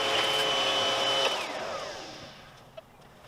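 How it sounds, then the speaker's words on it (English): A vacuum cleaner sucks up dust around a basement window opening cut in concrete, its motor whining loudly and steadily before switching off and winding down, followed by a single small knock. "And here I'm just going to vacuum up."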